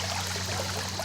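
Steady, continuous rush of flowing water, like a creek running nearby, with a faint low hum underneath and no voices.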